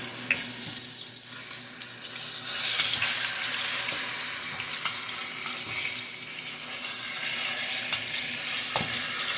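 Pork loin ribs browning in a frying pan, a steady close sizzle that swells louder partway through, with a few faint clinks of utensils and no talking.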